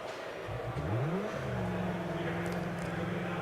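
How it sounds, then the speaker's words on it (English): A Formula SAE race car engine starts up, cranking and catching into a rising rev that settles into a steady idle hum, heard fairly close with no voices. "As you click the starter, suddenly, your race car breathes into life."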